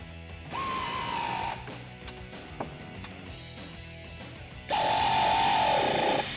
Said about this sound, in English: Now we're just gonna strap the bushing down with the bushing bracket. We're gonna use the 2 factory 15mm bolts.